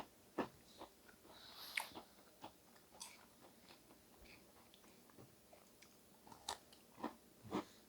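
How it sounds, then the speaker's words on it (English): Someone crunches on Muddy Buddies snack right up close, with sharp irregular bites and crunches scattered over quiet chewing, fairly faint overall with no talking. "You're just crunching into the microphone, making an ASMR video."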